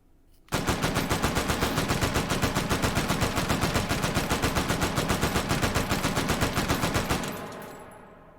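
Cursed gun in the video game Hot Dogs Horseshoes & Hand Grenades fires a long, loud, rapid automatic burst of steady evenly spaced shots for about seven seconds, then stops abruptly and leaves a fading tail.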